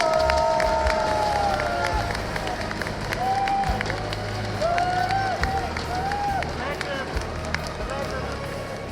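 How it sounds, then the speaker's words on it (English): A large esports crowd at a Heroes of the Storm ESL EU Fall Regional semifinal applauds and cheers as team Misfits is introduced, with sustained loud clapping under rising whoops and shouted cheers echoing through the arena. "Let's make sure they give them a big round of applause."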